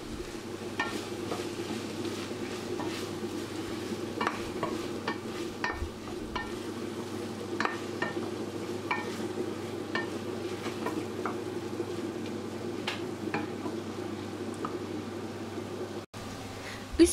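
Steady soft sizzling of fresh okra sautéing in a pan, with occasional light scrapes and clicks of a utensil stirring, no voices.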